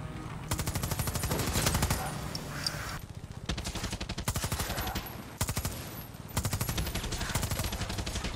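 Rapid automatic gunfire from a Far Cry 6 firefight crackles in long, loud bursts of fast repeated shots, broken by brief pauses, with no talking over it.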